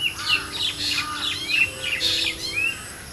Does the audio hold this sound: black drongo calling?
yes